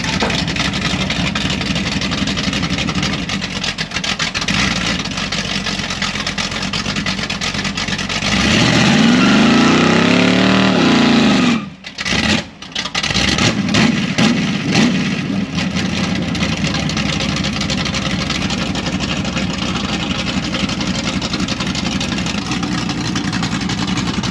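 A 350 V8 engine in a 1970 Nova idles roughly, then revs up hard in a loud, sustained rise and falls back, with a brief cut before it settles to a steady rumble.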